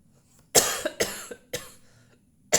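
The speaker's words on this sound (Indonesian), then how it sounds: "Saking semangatnya jadi sampai batuk." A person coughs several times in a quick, uneven series, close and fairly loud, with no talking.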